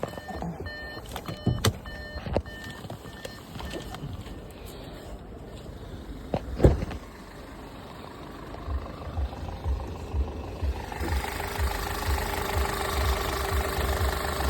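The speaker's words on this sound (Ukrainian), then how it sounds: "Мотор працює рівно." An Audi A4 engine with 219,000 km on it runs at a steady idle, a low even rumble with a few clicks and knocks early on, growing slightly fuller toward the end.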